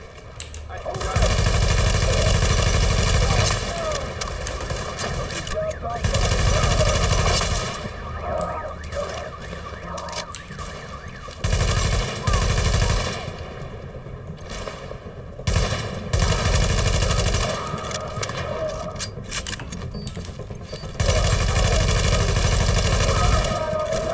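Automatic gun firing in a video game, in long loud bursts with heavy recoil, repeating in several sustained volleys across the clip over steady game background noise.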